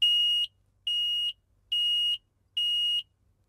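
A battery-powered carbon monoxide detector in a camper van sounds four loud, evenly spaced electronic beeps, each about half a second long with short gaps between them, and nothing else is heard.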